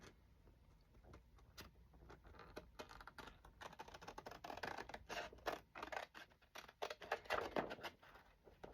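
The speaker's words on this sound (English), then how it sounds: "And then you just take and trim around it." Scissors trimming around a paper envelope, quiet and close, with irregular snips and scratchy paper rustles that grow busier toward the end.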